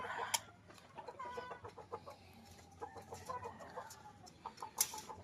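Chickens, gamefowl kept for cockfighting, cluck in a steady, busy chatter while being fed, with a few louder squawks rising above the scattered clucks.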